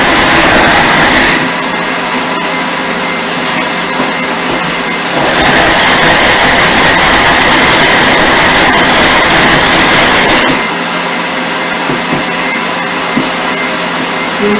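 A kitchen robot mixer whipping pavlova meringue, run in short pulsed presses: a loud, steady motor whir swells in two bursts, with brief drops to a lower hum between the presses.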